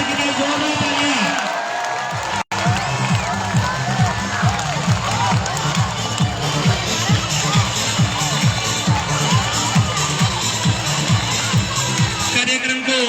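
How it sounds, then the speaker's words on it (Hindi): Audience cheering and clapping at a Teachers' Day celebration at a school in Taranagar, with a crowd of voices and whoops over a steady, repetitive low rhythmic beat that runs throughout. "मंच की शोभा बढ़ाएंगे। आदरणीय शैलेंद्र जी सर के लिए जोरदार तालियां।"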